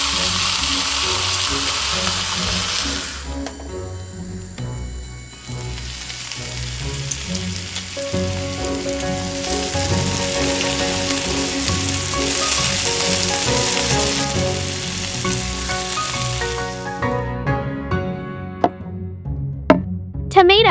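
Butter sizzles and fries in a tiny mini pan while cooking mini steamed fish with rice, a steady close crackling hiss that drops away near the end, with no talk.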